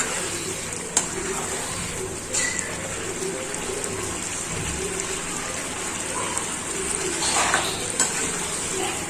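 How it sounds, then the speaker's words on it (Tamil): Mushroom malai curry gravy boiling in a pan gives a steady, soft bubbling hiss that runs throughout, with a few faint clinks and no talking. "இப்போ கிரேவி நல்லா கொதிச்சிருச்சு"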